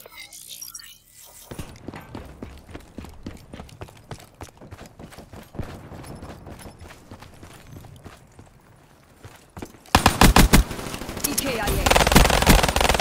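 Rapid automatic gunfire from Black Ops 3 gun game mode crackles in dense bursts, steady and close, then swells louder and harsher in the final seconds.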